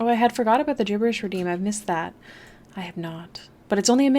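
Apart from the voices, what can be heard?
None of the usual background noises is heard.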